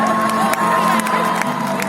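A pageant audience at the Femina Miss India event cheers, whoops and claps in a dense, continuous crowd roar, loud and close throughout the short burst.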